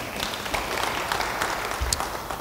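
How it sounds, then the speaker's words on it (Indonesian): A church congregation applauds in a steady wash of many hands clapping at moderate distance, sustained without pause, with a faint voice buried beneath. "Beri tepuk tangan yang baik bagi Dia."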